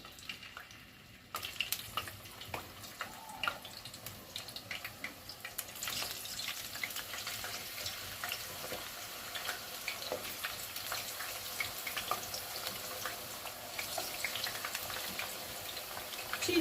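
Steady crackling and popping of potatoes frying in oil, a continuous bubbling hiss with scattered sharp spatters, fairly quiet and close.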